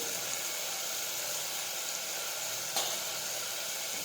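Spices, crushed garlic chutney and turmeric sizzle in a pan for Gujarati choli (black-eyed pea) curry, a steady close hiss with one brief clatter near the end.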